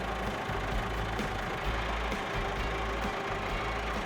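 A tractor engine idles steadily nearby in a garage setting, a continuous low rumble with slight knocking texture that holds at an even level throughout, with no talking.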